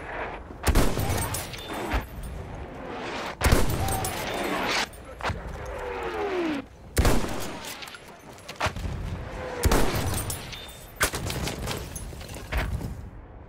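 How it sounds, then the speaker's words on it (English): Video game battle with an artillery barrage and gunfire: repeated loud, booming blasts and crackling shots arrive in bursts every second or two, with some whistling incoming rounds between impacts. "The enemies are being halted by our artillery barrage."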